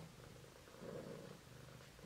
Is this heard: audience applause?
no